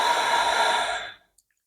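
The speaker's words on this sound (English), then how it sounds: "breathing out" One long, slow exhale, close and airy, drawn out for over a second in a calm yoga practice in sphinx pose before fading into quiet.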